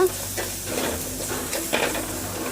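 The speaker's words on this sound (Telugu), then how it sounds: "ఇప్పుడు మనము జీలకర్ర మిరియాలు దంచి పెట్టుకున్న దీన్ని ఇలా వేసుకోవాలి వేసుకుంటూ ఒకసారి ఫ్రై చేసుకోవాలి" Ground cumin and pepper fried with tomatoes in a pan for tomato rasam, giving a steady soft sizzle with occasional stirring scrapes, close and moderately loud, no talking.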